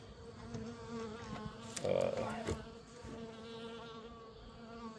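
Honeybees buzz steadily around beehive nucs being moved into 8-frame boxes, a dense continuous drone with individual bees zipping close past, outdoors with no talk.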